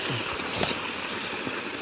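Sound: water flowing from serviced well motor pump

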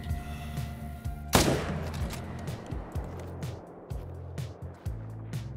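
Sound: hunting rifle gunshot in Call of the Wild video game

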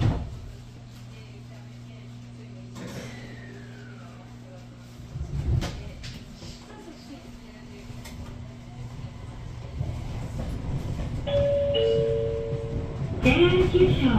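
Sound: train doors closing with warning chime at station

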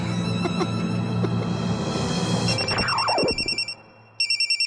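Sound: mobile phone ringing

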